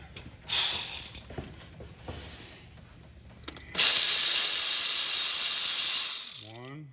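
An electric ratchet drives fasteners on a Ford 7.3 Powerstroke oil cooler. A short whir comes first, then a loud, steady mechanical buzz runs for a couple of seconds before it winds down, close up in a garage.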